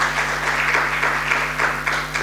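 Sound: congregation applause

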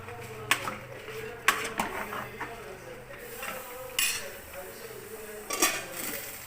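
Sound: stirring curry in a cooking pot

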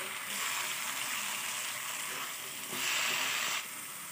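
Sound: onions and tomatoes sizzling while sautéing for quail gravy

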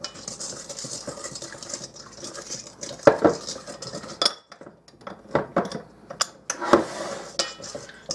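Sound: stirring yeast mixture in a bowl

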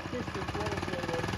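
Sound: Mototec Mud Monster 98cc go-kart gas engine running

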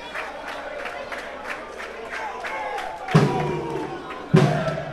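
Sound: Guarany de Sobral fans cheering and applauding in stadium

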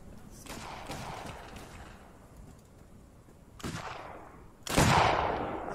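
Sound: gunfire in the video game Arma 3

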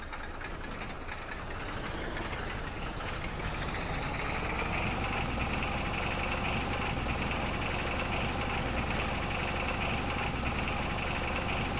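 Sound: vehicle engine while driving in video game Farming Simulator 22

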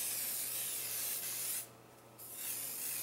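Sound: Sebastian finishing hairspray being sprayed on hair

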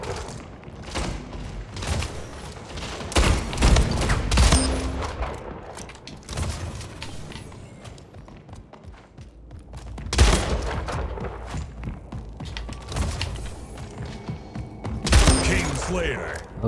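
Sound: shotgun fire in the video game Splitgate

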